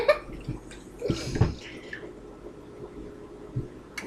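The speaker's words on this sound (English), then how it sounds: "So gotta always wash your hands before you cook." Hands are washed under running water before cooking fried chicken, with irregular close splashes and trickles and a few louder bursts as the hands move through the stream.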